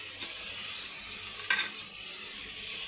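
Onions with ginger garlic paste frying in a pan for tomato pulav, a quiet steady sizzle with one short scrape of stirring partway through.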